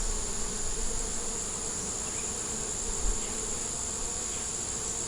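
Honey bees swarm around an open hive frame holding brood and nectar, making a steady, dense, close buzzing drone throughout with no talking.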